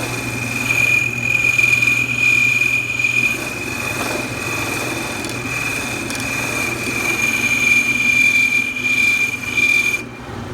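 Skew chisel cutting a small wooden knob down to one diameter on a wood lathe, giving a steady scraping, rasping cut over the lathe's continuous motor hum and a high whine, close and fairly loud throughout.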